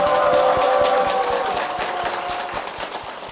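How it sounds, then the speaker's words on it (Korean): A church congregation applauds their senior pastor, a full burst of clapping that slowly tapers, with a rhythmic clap pattern underneath and a sustained musical tone early on. "다시 한번 큰 박수 부탁드리겠습니다"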